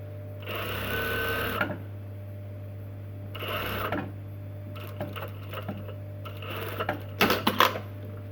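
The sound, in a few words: sewing machine edge stitching a trouser fly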